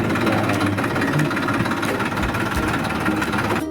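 A tractor engine chugs steadily with a knocking, throbbing idle in a muddy farm field after heavy rain, loud and close throughout with no voices.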